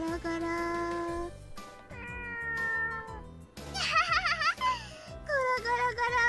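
A cat meows repeatedly in the visual novel Muv-Luv Extra, several bright drawn-out meows over a steady musical backing with no talk.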